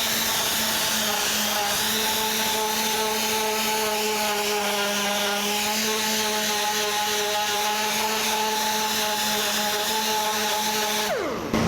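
Sandpaper of 120 grit rasps across rock slider trim from a 1984 Jeep CJ7 in a continuous, loud, even scratching with a faint droning tone, ending abruptly near the close.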